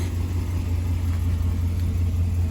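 Steady low engine rumble from a 2019 Ram 1500 pickup with a resonator-delete exhaust, idling close by with a constant deep drone and no talk.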